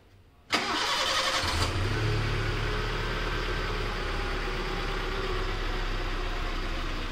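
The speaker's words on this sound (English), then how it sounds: "So right now I'll go ahead and start the vehicle and show you how it works." An ex-Army Maruti Gypsy 4x4 petrol engine cranks briefly, catches, then settles into a steady, close idle that runs on alone to the end.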